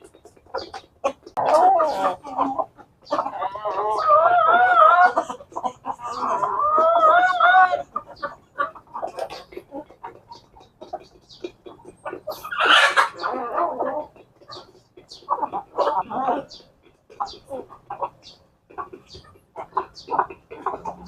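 Several chickens cluck and squawk nearby at feeding time in irregular bursts, with louder agitated calls in the middle and scattered pecking-like clicks between.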